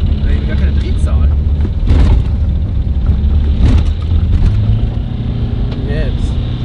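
A diesel car engine restarting after a diesel runaway caused by diesel in place of engine oil, a rough low rumbling idle with uneven chugging close up, with a person talking over it.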